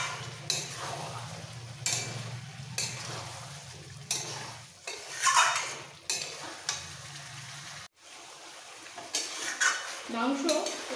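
Chicken being stirred with ground chilli paste in a pan makes repeated scraping strokes of a spoon against the metal, with a soft sizzle underneath, a hum in the first part and a brief pause near the end.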